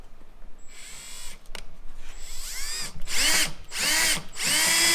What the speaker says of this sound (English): So we're gonna take our drill bit with our 5/16 drill, and we're just gonna start drilling out this hole